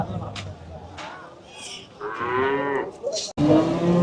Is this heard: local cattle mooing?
yes